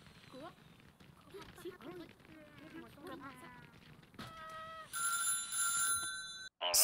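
A telephone rings in the factory-management video game Little Big Workshop: bright, repeated electronic ring tones enter late and carry on, above game sounds and someone talking.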